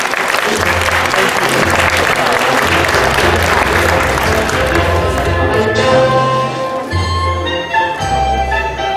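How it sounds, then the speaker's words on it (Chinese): Loud, dense audience applause at the award ceremony for the national secondary school classical bodybuilding high-school division, under 75 kg. It continues strongly, then thins out near the end as background music emerges. "来宾来一点掌声好不好？"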